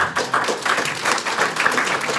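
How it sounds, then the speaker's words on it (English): A room of audience members applauds at a sales training and promotion event, with a brisk, uneven patter of hand claps rising and falling continuously at moderate loudness. "let's give them one more round of applause for that"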